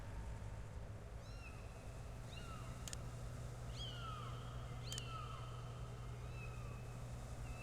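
A kitten meows repeatedly in Sam & Max Save the World, several short rising and falling mews spaced over a steady low hum and background noise, fairly faint and without talk.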